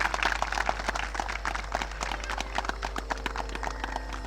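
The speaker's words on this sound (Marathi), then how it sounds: "एकदा सगळ्यांनी जोरदार टाळ्या त्यांच्यासाठी वाजवायच्या आहेत ज्यांनी या गाईचं बारसं इथे आयोजित केलेलं आहे" An audience at a cow naming ceremony claps in dense, continuous applause, many hands close by over a low steady hum, with no speech.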